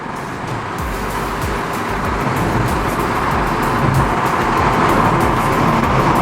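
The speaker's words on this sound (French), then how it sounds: "je vais accélérer pour créer une distance de sécurité et m'insérer" Car engine building steadily as the vehicle accelerates onto a road during a driving test, a loud continuous roar with road and wind noise rising over several seconds, no talking.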